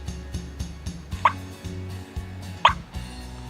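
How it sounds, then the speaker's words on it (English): Two single, sharp turkey clucks from a Cass Creek electronic game call recording pop out about a second apart over a low steady hum, short and close, with no voices. "Here's your cluck."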